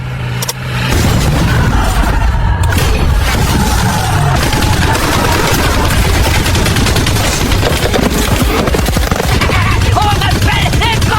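Sustained, loud bursts of machine-gun and rifle fire open a battle scene, rattling continuously for about ten seconds with booming impacts mixed in.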